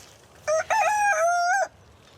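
A rooster crows once near a house in a residential neighbourhood where neighbours object to the noise, giving a clear, loud cock-a-doodle-doo of about one second with a short break after the first note, alone against quiet surroundings.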